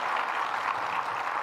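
A short burst of steady crowd clapping from an audience at a state budget event in Rochester, even and moderately loud, with no voices on top.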